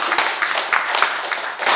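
Crowd clapping at a political rally in response to a speech, a brief, dense burst of applause with some voices mixed in, fairly loud and close.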